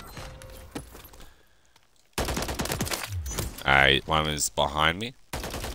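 Gunfire in the video game Warzone crackles in quick bursts at the start and again later, interleaved with a player talking loudly over the action.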